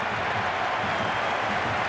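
A stadium crowd buzzes in the cricket video game Cricket 26, a dense, steady wash of cheering and murmuring voices filling the stands with no single voice standing out.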